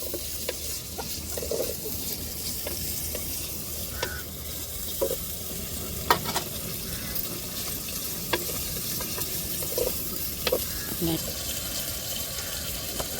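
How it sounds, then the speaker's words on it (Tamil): Onions sautéing until golden in a pan for a goat intestine curry: a steady low sizzle runs throughout, broken by occasional soft scrapes and taps of stirring, all fairly quiet. "வெங்காயம் நல்லா பொன்னிறமாக வதங்கி வரட்டும்"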